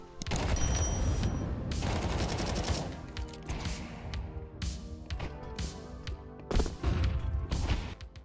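Rapid gunfire from a Counter-Strike 2 round on the Dust2 map, with the counter-terrorist side defending B site: dense bursts of automatic fire and sharp single shots, loud and close, repeating in clusters with no talk over them.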